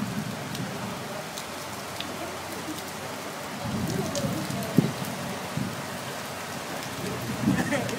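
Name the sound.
heavy rain in Okinawa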